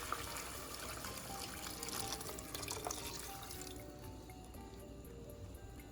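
Water pours steadily from a tap into a cooking pot holding beef for a bean stew, a close, bright splashing fill that thins toward the end.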